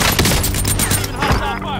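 Dense burst of hostile gunfire in Call of Duty: Modern Warfare battle royale, several quick overlapping shots loud and close over a brief moment.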